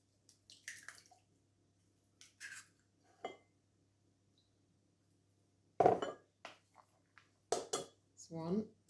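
Eggs cracked into a jug for a lemon drizzle cake, with a few sharp clinks and taps against the rim spaced between brief moments of quiet, close and moderately loud, over a faint steady background hum.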